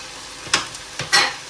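Malai boti meat pieces frying in a pan, giving a few short, loud scraping and sizzling bursts close by against a quiet background.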